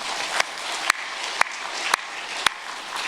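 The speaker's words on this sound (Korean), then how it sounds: "감사의 박수 올려드리겠습니다" Thanksgiving applause from a church congregation during an Advent sermon: a dense, hissing wash of clapping with a few louder, sharper claps standing out at irregular intervals.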